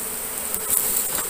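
Honey bees swarm around a swarm-catching box during a swarm capture by a beekeeper, a steady close insect buzz that holds throughout and swells slightly midway, with no talking.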